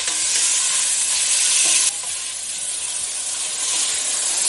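Pig fat sizzles in a pan over medium-high heat for pasta e fagioli, a loud, dense, continuous hiss with a brief stir partway through and a slight dip in level afterward.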